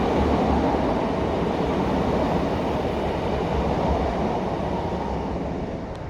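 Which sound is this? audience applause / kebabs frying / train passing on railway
train passing on railway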